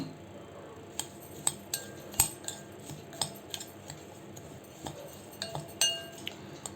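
A spoon mixes moong dal and coriander kachori stuffing in a bowl, giving a string of soft, irregular clinks and taps, close but quiet, with no voices.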